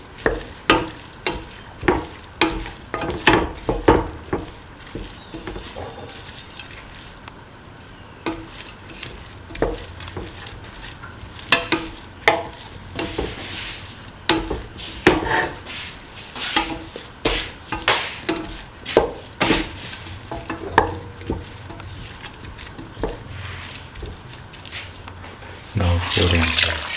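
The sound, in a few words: sauteing and stirring lentil winter melon stew mixture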